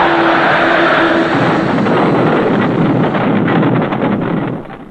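Loud, steady roaring rush of an aircraft diving in a Dan Cooper audio drama, with a faint tone at the start, holding broad and continuous before tailing off at the very end.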